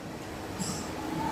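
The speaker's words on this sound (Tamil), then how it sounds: "ட்ரெயின் வளைச்சு ஓடிட்டு இருக்கு பாருங்க" A small ride-on train runs through the Brookefields shopping mall in Coimbatore, giving a brief, soft, steady rolling hum with a faint high squeal, set against the mall's quiet ambience.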